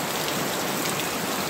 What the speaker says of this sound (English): Well, it's starting to hail. Small hail.